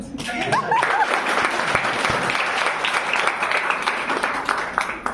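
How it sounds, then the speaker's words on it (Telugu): An audience at a talk gives a steady round of applause, with dense clapping that carries on throughout and a few voices and whoops near the start. "give them big round of applause"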